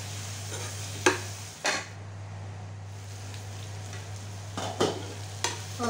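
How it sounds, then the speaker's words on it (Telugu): Chili powder and salt being stirred into a tamarind curry with drumsticks in a pan, heard as a soft steady simmer with a few sharp scraping strokes of the spoon close by. "వేసుకొని ఒకసారి కలిపేసుకోవాలి"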